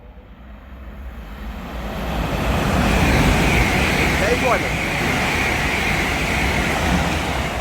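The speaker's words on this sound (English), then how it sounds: "Passing is going to be an LNER Zoomer running 96 minutes late, going from Edinburgh to London's King's Cross." An LNER Azuma express from Edinburgh to London King's Cross, running late, passes through Hitchin station on the East Coast Main Line with a loud, swelling rush that holds near and steady, a voice talking over it.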